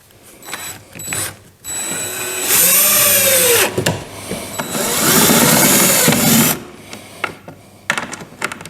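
A power drill drives reused pocket screws to attach a front fascia board while restoring a pie safe. The motor whines loudly in several close bursts, with ratcheting clutch clicks and short pauses between them.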